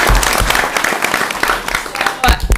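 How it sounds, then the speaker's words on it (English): A school committee meeting audience gives Kayla a round of applause, a loud, dense burst of many hands clapping continuously with a few voices mixed in. "How about a round of applause for Kayla?"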